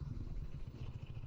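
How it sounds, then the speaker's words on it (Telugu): A sports motorcycle carrying two riders and luggage on the road, its engine giving a low, pulsing drone with rough rhythmic throb, fairly quiet and continuous. "Bandi sports bike."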